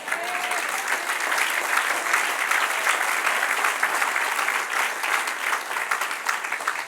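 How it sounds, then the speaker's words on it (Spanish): A church congregation applauds the Lord during a Bible history lesson, with loud, dense, sustained clapping that stays even throughout and holds no talk. "Ahora denle otro aplauso al Señor"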